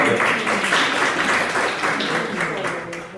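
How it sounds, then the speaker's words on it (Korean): Applause from a church congregation honouring members for their Bible reading, a steady wash of hand claps lasting several seconds at moderate loudness, with faint voices mixed beneath. "박수 한번 주세요"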